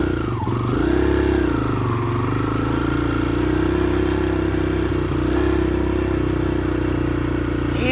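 A new dirt bike engine runs steadily at a loud, close idle with slight revving swells and mechanical clatter, continuing alone without speech.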